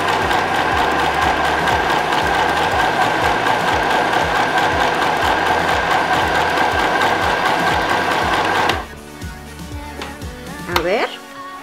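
A mini sewing machine stitches fabric in a steady, rapid mechanical chatter that runs loud and continuous, then stops abruptly near the end, leaving a few handling clicks and a brief voice.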